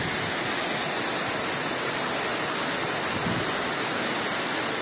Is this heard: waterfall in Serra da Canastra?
yes